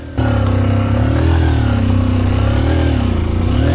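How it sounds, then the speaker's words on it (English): A Honda XR150 motorcycle engine labors off-road in Vietnam, droning continuously and close, its pitch rising and sagging slightly as it struggles for power. "the XR150 was really struggling with power"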